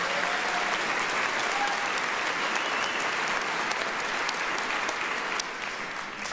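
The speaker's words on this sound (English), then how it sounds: "Please give them a round of applause at this time." A large crowd applauds graduates honored for military service at a college commencement, a loud, sustained, even wall of clapping in a big hall that drops slightly near the end.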